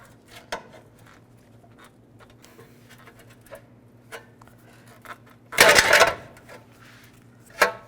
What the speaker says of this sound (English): this hubcap, just use a pry bar.